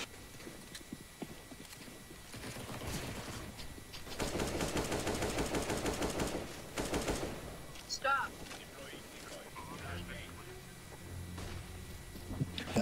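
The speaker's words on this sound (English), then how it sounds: "Let's give him a gun salute." Rapid automatic gunfire from a salute in the CS:GO video game, a dense burst of shots lasting a few seconds at a steady loud level, with other game sounds and scattered clicks around it.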